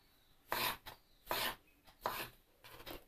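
A knife slices through washed button mushrooms on a board in four quick, close rasping strokes, each a short scraping burst separated by brief quiet gaps.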